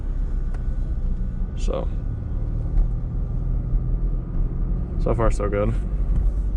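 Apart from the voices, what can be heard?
1984 Pontiac Fiero driving in first gear, engine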